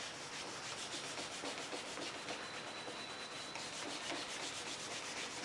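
Compound being rubbed into a homemade leather strop, a steady close scrubbing swish with repeated back-and-forth strokes throughout, no voices.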